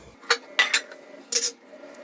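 A utensil scrapes and clinks against a pot while moong dal pakoda curry is stirred, three short, clear bursts over a quiet background with no talk.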